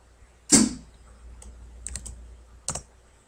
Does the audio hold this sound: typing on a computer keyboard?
yes